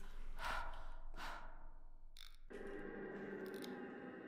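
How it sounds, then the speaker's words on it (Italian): Heavy panting and breathing in a horror video game elevator, a few loud breathy gasps close up, followed by a scraping noise and a steadier rush of sound. "Perché qualcuno ansima? Chi è che ansima?"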